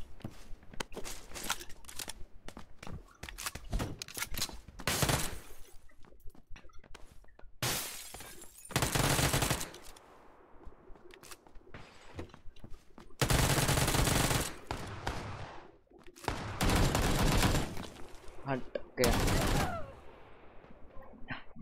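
Bursts of gunfire in PUBG PC Lite, several loud broadband volleys spread across the stretch with gaps between, mixed with shattering and rattling game effects and brief background clatter.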